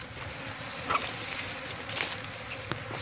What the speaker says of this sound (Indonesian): Uh, banyak lalat nih